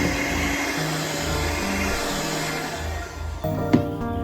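An electric hand beater whirs at first speed in cake batter for a Black Forest cake, a continuous steady motor drone close by that drops out near the end, followed by a small clatter.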